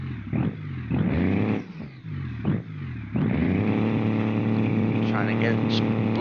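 A monster truck engine at a nighttime monster truck racing event spools up, rumbling and pulsing with revs before rising into a loud, sustained roar, while an announcer talks over it.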